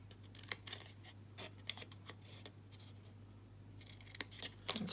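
Scissors snip paper for an accordion fold box in a quiet room, giving a series of short, crisp, irregular cuts over a faint low hum.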